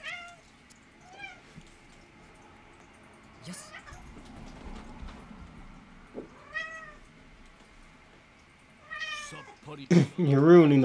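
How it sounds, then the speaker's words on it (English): A cat meows several times at moderate distance, short rising-falling calls spread across the stretch with quiet gaps, then a louder burst of close meowing and noise near the end. "You're ruining the moment, cat."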